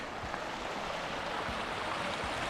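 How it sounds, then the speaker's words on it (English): Mountain stream rushing and splashing at a trail crossing in Torres del Paine, Patagonia, a steady close broadband wash of water with no voices. "Look at this stream crossing."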